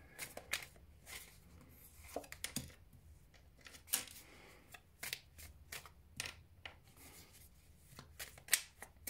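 Playing cards shuffled repeatedly during a tarot or card reading, with quick riffled bursts of sharp, papery clicks that come in irregular clusters, close by and fairly quiet.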